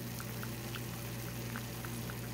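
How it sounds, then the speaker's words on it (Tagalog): Eggs fry in a hot pan with a constant dense crackle and sizzle, along with small scattered pops. "Tayo ngayon ay nagluluto ng pritong itlog."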